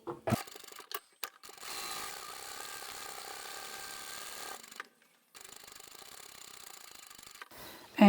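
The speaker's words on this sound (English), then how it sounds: "Go back to the other end, sew across the short edge." A sewing machine stitches across the short edge of lanyard fabric, with a steady mechanical whir of rapid needle strokes lasting several seconds, stopping briefly and then resuming.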